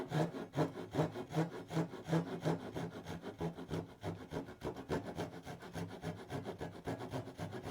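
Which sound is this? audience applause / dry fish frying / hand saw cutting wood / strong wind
hand saw cutting wood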